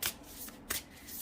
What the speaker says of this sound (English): Like shuffling in your hands.